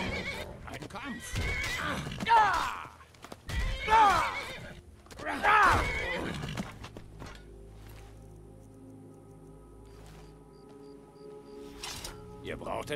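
A horse in the video game Skyrim neighs loudly three times in a row, each whinny rising and falling, followed by quieter ambient sound with a faint tone.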